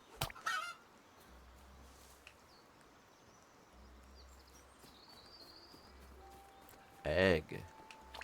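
Chickens cluck in the video game Chop Chop Inc, a brief squawk at the start and a louder honking cluck burst near the end over a steady game background hum.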